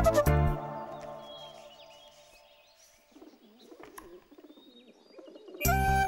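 A pigeon coos softly in a short series of low burbling calls, heard alone after a fading musical chord and before another burst of music.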